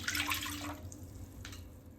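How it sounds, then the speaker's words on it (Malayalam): Water is poured into an idli steamer in a short burst of splashing that fades after under a second, followed by a faint second trickle. "ഇനി അടുത്തത് ഉണ്ടാക്കുമ്പോൾ അതിൽ കുറച്ചും കൂടി വെള്ളം ഒഴിക്കണം"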